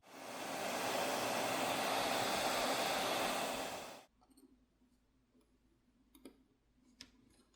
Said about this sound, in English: I prefer to use a hairdryer since there's less of a chance of damaging any of the components inside by overheating them.